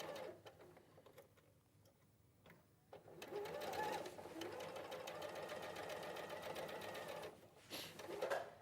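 A sewing machine chain-pieces fabric, starting with a few short bursts and then running steadily at speed for several seconds before stopping and starting again. Quiet voices can be heard in the room.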